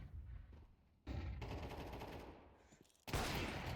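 Gunfire from a headshot in a Counter-Strike match during a women's pro league event, heard as bursts of rapid shots separated by brief gaps, with a loud sharp burst at the end.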